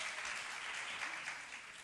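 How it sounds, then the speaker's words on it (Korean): Applause from a church congregation during a sermon on Liberation Day, a steady dense patter of many hands clapping at moderate distance, quiet overall with no speech on top. "여러분 박수 한번 쳐줄까요?"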